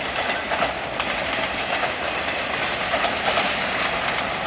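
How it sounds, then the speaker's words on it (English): A freight train rumbles steadily across a bridge with a broad, continuous roar and faint rhythmic clatter of wheels, fairly loud and close throughout. "The bridge holds a train."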